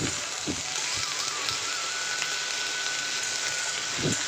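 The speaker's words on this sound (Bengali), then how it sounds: "তো ঢ্যাঁড়সগুলো ভালো করে ভেজে নিই একটু" Okra sizzling as it fries in a pan, a close, even crackle like light rain that holds steady throughout, with a few soft knocks from stirring.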